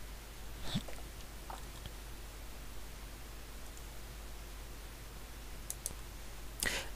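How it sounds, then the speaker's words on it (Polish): A couple of faint, sharp clicks over a steady low hum, spaced a few seconds apart, like a computer mouse button being pressed. "klikam prawym klawiszem myszy"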